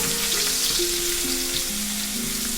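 Onions sizzle steadily in hot oil in a pan while being sautéed for a Tamil fish kuzhambu, a close, continuous frying hiss with no talk over it.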